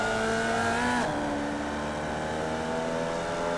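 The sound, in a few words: Formula Vee race car engine downshifting in iRacing video game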